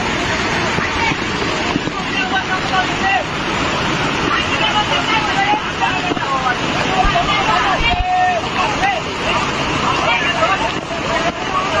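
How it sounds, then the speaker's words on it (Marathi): A loud, steady roar of water pouring forcefully down a waterfall at Dagadwadi after a sudden surge in flow, continuous and close, with voices talking over it. "भरपूर पाण्याचा ताकदीने पाणी पडू राहिलं खालून."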